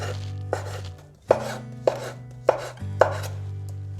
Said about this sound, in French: Donc les champignons shiitake découpés aussi finement en julienne.